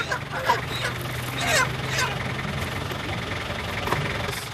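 Chickens bought at a market in Skardu, Pakistan, cluck and squawk in short scattered bursts over an idling engine rumble, with faint voices in the background.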